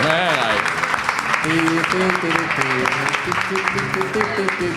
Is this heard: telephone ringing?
no